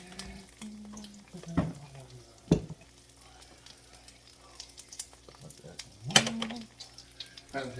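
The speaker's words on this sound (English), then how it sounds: "let's add a little olive oil to this pan here" Olive oil heating in a frying pan for peanut-coated tilapia gives a soft, steady sizzle, broken by a few louder clanks and scrapes of cookware nearby.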